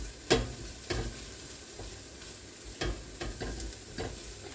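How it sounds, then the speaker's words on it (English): Garlic frying in a pot for lasagna soup sizzles softly and steadily while a spoon stirs it, scraping the pot in several distinct strokes at close range. "All you're going to do when it comes to garlic is you want to stir that"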